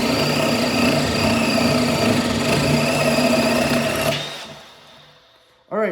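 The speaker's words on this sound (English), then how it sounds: "this is on the drill setting now, and we'll drill another one" A Milwaukee M12 cordless hammer drill, set to drill mode, whirs steadily and loudly with a spade bit for about four seconds, then winds down and stops; a short voice follows at the end.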